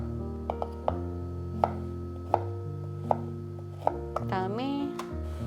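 A knife chopping food finely into pieces about 1.5 cm on a cutting board, with evenly spaced crisp knocks, roughly eight, close by, while someone talks throughout.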